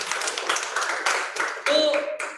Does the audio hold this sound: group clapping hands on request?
yes